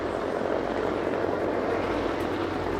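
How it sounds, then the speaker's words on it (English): Westland Whirlwind search and rescue helicopter at the Cosford airshow 2018, a steady loud broadband engine and rotor roar with no distinct blade chop, continuous throughout. "this, the Whirlwind, used primarily during the 1960s"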